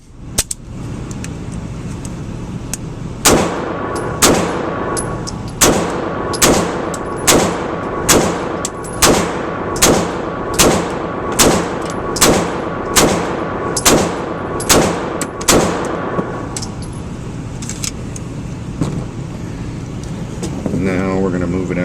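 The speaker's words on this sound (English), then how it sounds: "we're going to run some Blazer brass 115 grain. We're going to do the same thing. 15 at 3, 15 at 7, 10 at 10, 10 at 15 with the 92X." Beretta 92X pistol firing Blazer Brass 115-grain rounds, a steady string of about fifteen loud, evenly spaced shots at close range, each a sharp crack with a short ringing tail.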